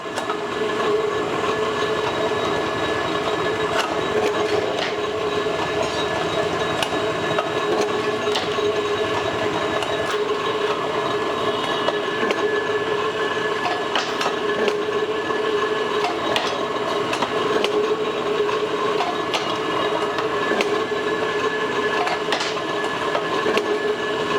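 An electric corn threshing machine husks whole ears of maize, giving a loud, continuous rattling roar with dense mechanical clatter and sharp clicks throughout. The noise is close and unbroken, with no voices.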